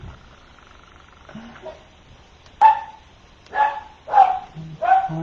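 Dogs barking indoors at a home, four sharp, fairly loud barks in quick succession after a quiet stretch, with no talking over them.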